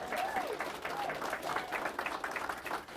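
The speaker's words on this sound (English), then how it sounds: "Give Brandon a round of applause." A crowd claps steadily in warm applause, fairly full and continuous, with faint voices mixed in.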